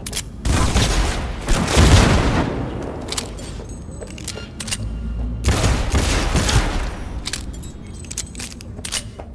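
Bursts of automatic gunfire in the video game Cyberpunk 2077, two loud sustained barrages of rapid shots with booming low rumble, separated by a quieter stretch of scattered clicks and mechanical clatter.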